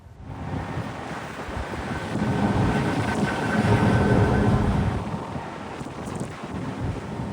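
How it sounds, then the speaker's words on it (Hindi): Stormy sea with waves surging against a ship, a roaring rumble of wind and surf that swells and ebbs, buffeting the microphone throughout. "लहरें भी उमड़कर जहाज पर चढ़ जाना चाहती"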